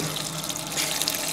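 Water runs steadily from a tap into a sink to soak something, a continuous close splashing hiss with no pauses and no talking.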